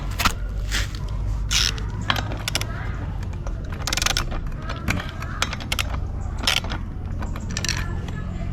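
Metallic ratcheting and scraping come from tightening the clutch spring assembly on a 411 grass trimmer, with loud, close, repeated clicks and grinding turns in irregular bursts.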